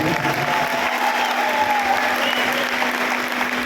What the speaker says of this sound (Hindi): एक बार जोर से तालियां बजा दीजिए।